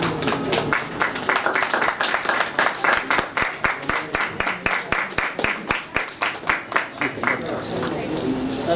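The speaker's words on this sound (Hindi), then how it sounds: "तालियां बजती रहे हेमंत बिरजे जी के लिए, जोरदार तालियां हो जाए।" Audience clapping at a film award ceremony, sharp, distinct claps building into a rhythmic, fairly close burst that keeps pulsing throughout, with voices talking over it.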